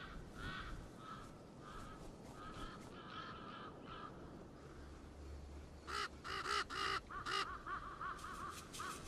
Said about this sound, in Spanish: Los cuervos son polifacéticos.